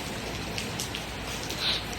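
Steady rain falls on a backyard chili garden, a dense continuous hiss of drops, close and even throughout.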